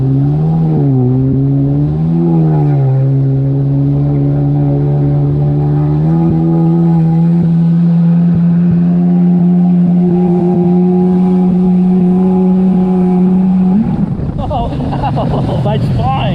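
A Yamaha GP701 personal watercraft drones loudly and steadily while being ridden, its engine pitch wavering slightly before a rough, churning change near the end, with wind buffeting the microphone.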